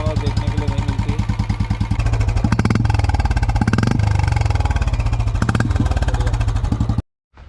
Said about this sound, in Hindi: इंजन में अच्छी खासी आवाज़ आपको देखने को सुनाई दे रही है,